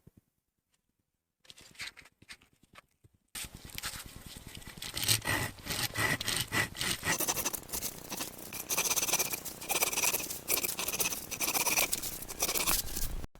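Knife or saw blade scraping and cutting a round of wood at an even depth around a handle section at a camp site, a steady close rasping after a few quiet taps, continuing without talk.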